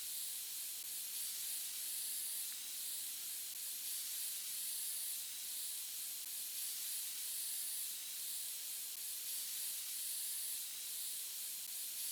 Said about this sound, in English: let's spray that out.